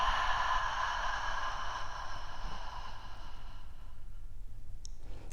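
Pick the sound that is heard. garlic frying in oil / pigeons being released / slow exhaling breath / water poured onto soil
slow exhaling breath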